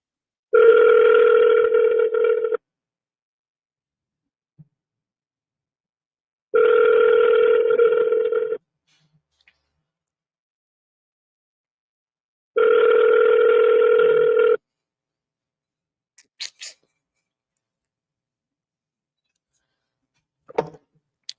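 Telephone ringing tone on an outgoing call, three long even tones about two seconds each, separated by roughly four seconds of silence, followed by a few faint clicks.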